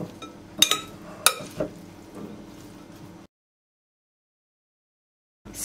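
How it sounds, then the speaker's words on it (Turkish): Salad being stirred in a bowl, with a few sharp clinks and scraping knocks of utensils against the bowl over three seconds before the sound cuts to silence. "Şöyle karıştırıyorum."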